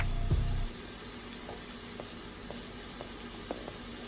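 Butter sizzles steadily in a pan as a cooked seafood cheesesteak gets underway, a soft thump at the start giving way to a constant close frying hiss.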